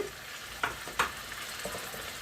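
Chicken pieces and onions with mint and coriander sizzle steadily in a pan, a soft continuous frying hiss broken by a couple of sharp spatula stirs and pops, close and fairly quiet with no talk.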